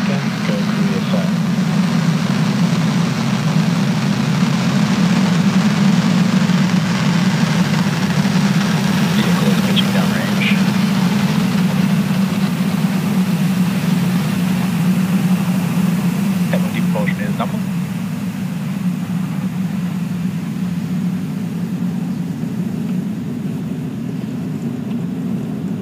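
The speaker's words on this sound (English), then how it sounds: "Falcon 9 has successfully lifted off from Launch Complex 39A at Kennedy Space Center, carrying the Koreasat 6A satellite." A SpaceX Falcon 9 lifts off from Launch Complex 39A at Kennedy Space Center carrying the Koreasat 6A satellite, heard as a continuous, even, low rumbling roar that holds for about twenty-five seconds, distant and muffled, with voices talking over it.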